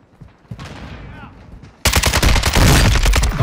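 Dense, loud automatic gunfire from Call of Duty: Modern Warfare II erupts suddenly after a quieter stretch, with rapid overlapping shots and heavy low impacts filling the rest of the moment.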